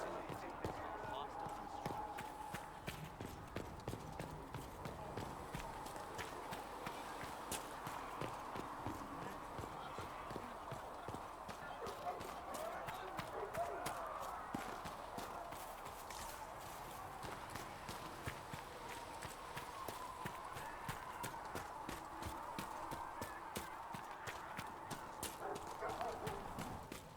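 Hooves clip-clop rhythmically as a horse travels in the video game Dragon Age Inquisition, a steady repeated beat that continues throughout, with game voices talking over it.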